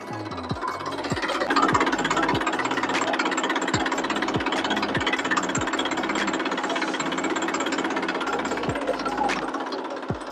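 A Massey Ferguson 241 DI tractor in fully original condition idles steadily up close, its diesel engine knocking in a regular, loud, rhythmic clatter throughout with no talking.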